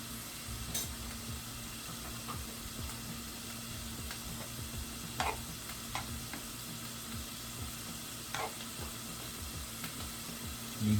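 Beans sizzling quietly in a pan while being stirred, with scattered scraping clicks from the utensil over a steady low fry, as nacho fillings cook; no voices.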